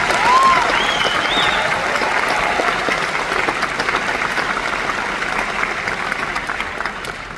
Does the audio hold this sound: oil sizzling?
no